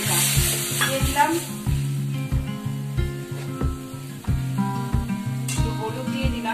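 Mustard-poppy paste and green chilli sizzle in a pan with fried onion and black cumin, a steady hiss running under a loud rhythmic music beat.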